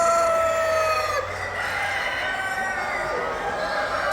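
At a large Orpington poultry show, a rooster crows loudly and steadily, with other birds clucking and crowing behind it in a noisy hall.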